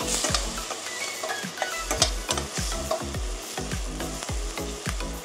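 Onions sizzle in a pan with turmeric for chicken porutu, a steady frying hiss broken by frequent scraping and stirring knocks of a spoon against the pan, close and continuous with no talk.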